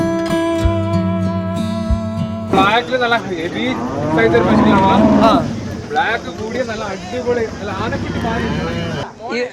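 A young white cow with four teeth, kept by cattle traders, lets out a long, deep, close moo. Loud talking by people nearby follows the moo.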